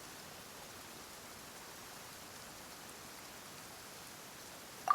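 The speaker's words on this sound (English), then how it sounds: "Yet today, the downpour arrived on schedule." Steady rain in a video game hisses evenly throughout, a soft broadband wash with no breaks and no voices, ending with a brief small bump.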